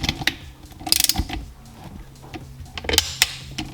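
A torque wrench ratchets as it tightens the bolts on a Seadoo 717 engine rebuild, giving a string of sharp clicks in irregular bursts with brief pauses between pulls.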